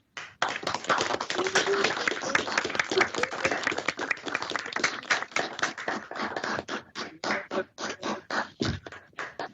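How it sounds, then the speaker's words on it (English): Applause at a city council meeting honours a team, many hands clapping at first, then thinning into fewer, separate claps that fade toward the end. "we're going to give you a very well-deserved round of applause"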